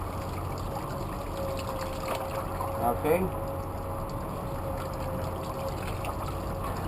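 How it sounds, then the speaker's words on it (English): Cold water pours steadily from a shower, a constant close rushing hiss that holds even throughout, with a brief spoken word midway. "I'm going to turn on the cold shower"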